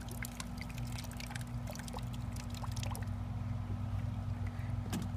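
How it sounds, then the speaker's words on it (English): A child's water sprayer toy sends water splashing and trickling in an irregular patter of drips over a constant low hum, fairly quiet throughout. "Here comes the water."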